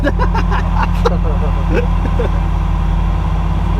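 A Ferrari's engine holds a steady, loud low rumble throughout, close by, while a voice is heard over it.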